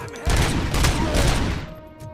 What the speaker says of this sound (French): Qui c'est qui me tire là derrière?